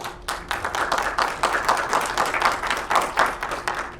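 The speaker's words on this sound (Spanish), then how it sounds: "Un aplauso a Pablo Espinosa, por favor." A small audience at a university lecture on superhero cinema applauds a guest speaker. The clapping is fairly close, and individual hand claps stand out in an uneven rhythm over four seconds.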